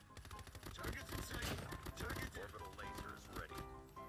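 Rapid bursts of CBR4 gunfire from a first-person shooter video game run through a dense, busy mix of game sounds and music, steady and loud with no clear gaps between shots.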